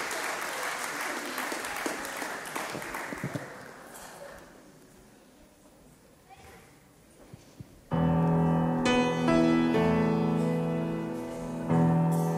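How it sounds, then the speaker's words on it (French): A church congregation applauds in a dense burst of clapping that gradually thins out to near quiet, after which worship music with sustained instrumental tones starts up loudly. "Est-ce qu'on peut applaudir le Seigneur?"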